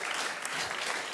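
Audience at a live stage show gives a burst of sympathetic applause, dense steady clapping from many hands heard at a moderate distance without talk.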